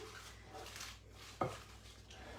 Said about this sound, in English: I'll just stir that through actually